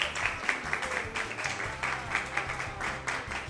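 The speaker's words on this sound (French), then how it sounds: "Je vous invite encore à applaudir" Studio audience applause at the close of a televised talent show, a rhythmic, steady clapping from a small group with distinct repeated claps over a low background hum.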